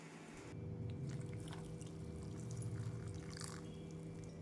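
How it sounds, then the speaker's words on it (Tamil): Hot water is poured over a cup of soya chunks (meal maker), a quiet, steady close-up trickle and splash lasting a few seconds against a faint background hum. "சுடு தண்ணீர் ஊற்றி 10 நிமிடம் ஊற வைத்து விடலாம்."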